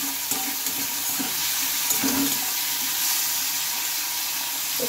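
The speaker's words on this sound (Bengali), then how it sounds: "চিংড়ি মাছটা আমি তেলের ওপরে দিয়ে নিয়েছি, আর এটা এখন আমি একটু ভালোভাবে ভেজে নেব।" Shrimp fry in hot oil in a pan, giving a soft, steady sizzle with light crackles and occasional stirring scrapes, quiet and with no one talking.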